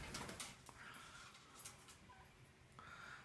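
A bird loose indoors gives faint, scattered calls and rustles over a quiet room hum, with a brief louder burst near the start.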